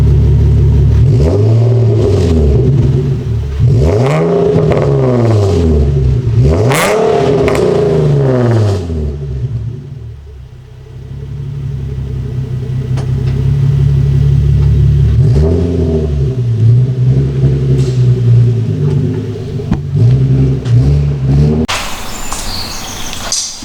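A Nissan 370Z engine revving repeatedly through an Invidia Gemini catback exhaust, loud rising and falling sweeps over a deep idle rumble, close by.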